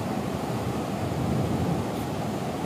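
Ocean waves surge onto a Cox's Bazar beach at high tide, a steady, loud, unbroken wash of surf and roar with no voices.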